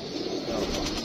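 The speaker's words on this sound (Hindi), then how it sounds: "ये कबूतर बैठते हुए जट का आखिरी कबूतर है" A pigeon on a rooftop coos softly through a short, steady stretch, the call blending with faint open-air background noise.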